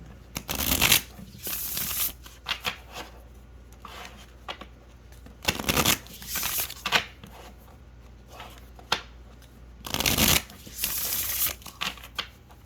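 A tarot card deck is shuffled in several distinct bursts of rapid riffling and flicking, loud and close, with quieter pauses between the bursts.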